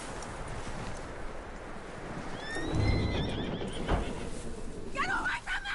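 A horse whinnies in the video game Red Dead Redemption 2, a rising neigh heard around the middle and again near the end, with wind and hoof clops in the background.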